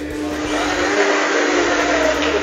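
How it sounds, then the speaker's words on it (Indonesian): A kitchen blender runs briefly while a dessert is prepared, a loud steady whirring motor that holds constant for a couple of seconds with slight wavering in load. "Di blender sebentar aja, mumpung saya punya blender yang bagus, saya pakai blender."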